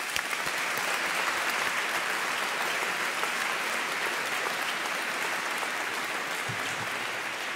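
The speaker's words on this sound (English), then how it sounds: "could everyone give everyone a round of applause?" A roomful of graduates and guests at a university graduation ceremony give a round of applause, a steady, dense wash of clapping from a large crowd that holds at an even level for several seconds without talk.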